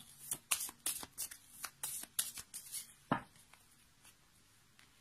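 A deck of tarot cards is handled and cut up close, giving a series of quick papery flicks and slaps, uneven in rhythm, then a softer rustle near the end.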